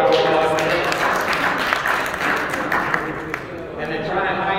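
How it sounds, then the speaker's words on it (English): Applause from a conference audience at a DEF CON cryptocurrency talk, a steady wash of clapping that fills the hall, with a voice speaking over it. "So, round of applause."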